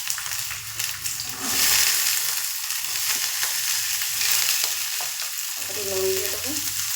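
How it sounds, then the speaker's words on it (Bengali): Chopped onion sizzling and frying in mustard oil in a kadai on a gas stove, a loud, continuous hiss close by, with stirring scrapes and a brief clink near the end. "পেঁয়াজ কুচিটা দিয়ে দেবো।"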